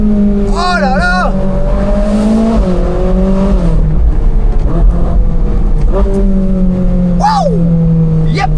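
A Ferrari engine at a steady, rumbling idle, with a sharp double throttle blip near the start and another quick rev toward the end, loud and close-up.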